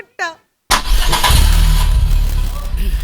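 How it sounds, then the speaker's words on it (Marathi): A car engine starting: after a brief spoken word and a pause, the engine cranks and catches loudly, then settles into a steady rumbling idle close by. "हा, गाडी सुरू कर."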